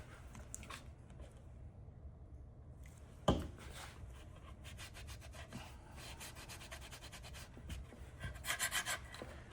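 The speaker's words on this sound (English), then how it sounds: "we'll just go ahead and give each of these a real quick half rub down" Mineral oil is rubbed by hand onto small Micarta pieces, a quiet, close scuffing and rubbing with a sharp knock partway through and a burst of quick strokes near the end.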